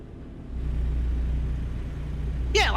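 A big truck diesel engine in American Truck Simulator holds a low steady idle rumble, rising slightly partway through, with a brief sharp sound at the end.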